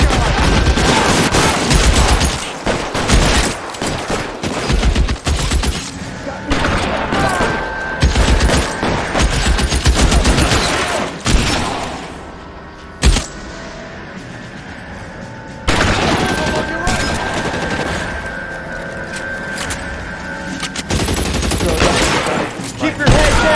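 Heavy shootout gunfire in L.A. Noire, with dense overlapping shots and bursts filling most of the stretch, loud and close, with brief lulls and characters shouting in between.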